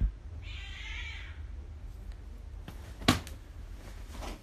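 An angry cat gives one drawn-out, strained meow, faint and somewhat distant, followed by a few soft knocks and rustles in a quiet room.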